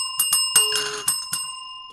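A small bell, like a bicycle bell, rung several times in quick succession, with bright ringing tones that sustain and fade between the strikes.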